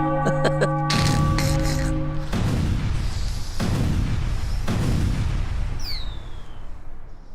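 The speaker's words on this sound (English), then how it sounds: "Should we play the fireworks and just absolutely go off?" A fireworks sound effect plays on a livestream: a quick rapid burst of crackling pops, then a roaring wash of booms and rumbling blasts, with a rising whistle near the end; loud and dense.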